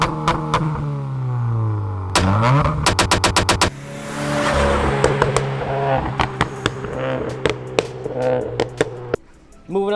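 A 2015 Subaru WRX running on E85 with a Nvidia Q300 exhaust revs up and settles back repeatedly. The loud, close engine swells in bursts with sharp pops, and someone talks over parts of it.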